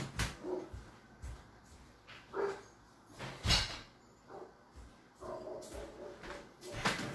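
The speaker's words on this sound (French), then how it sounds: "Je l'entends japper à travers la fenêtre." A dog yaps in short, repeated bursts outside, coming in faintly through an open window, with scattered sharp barks spread over several seconds against a quiet room.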